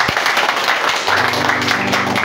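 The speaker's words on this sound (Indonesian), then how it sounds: "Tepuk tangan dulu buat Tuhan." A Pentecostal church congregation claps during a sermon, a brisk dense patter of many hands, fairly loud and close, with a sustained low organ or keyboard tone entering underneath partway through.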